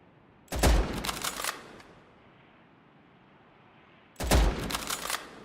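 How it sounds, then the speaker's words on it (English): Two loud bursts of rapid gunfire from the video game Easy Red 2, each volley lasting about a second with sharp crackling reports, separated by several seconds of quiet. "Let's fire some more shots!"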